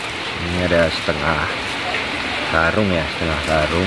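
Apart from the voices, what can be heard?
rain falling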